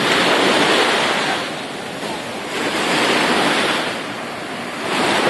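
Waves crashing on an offshore reef at sunset, a steady near roar of surf that swells and eases in slow surges, with wind noise mixed in and no voices.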